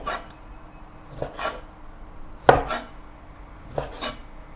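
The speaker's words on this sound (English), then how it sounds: "Cut the sausage into thin slices diagonally." A knife slicing Chinese sausage diagonally into thin slices on a board: four or five distinct cutting strokes about a second apart, each a short scraping chop ending in a knock, close and moderately loud.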